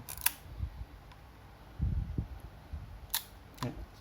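A film SLR camera with a faulty light meter fires its shutter in short, crisp mechanical clicks, a few scattered over several seconds against low handling thumps and quiet background hiss.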